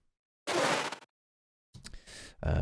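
Effect sample named I Broke My Bike: a short burst of noisy clatter, a pause, then a second rattling crunch with a low thump at the end; faint and brief, no talking.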